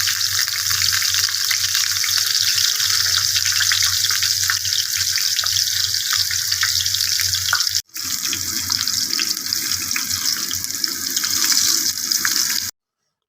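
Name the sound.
okra frying in hot oil in a frying pan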